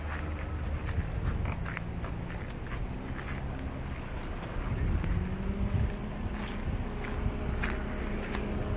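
Strong wind gusting at a campsite in Cameron Highlands, a steady rushing roar with buffeting on the microphone, continuous and fairly loud throughout with no voices.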